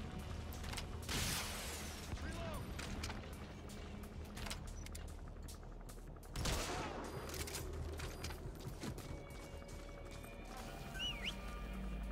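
Bursts of gunfire in Metal Gear Solid V crack out over a steady low rumble, with louder volleys near the start and around the middle, then scattered distant shots.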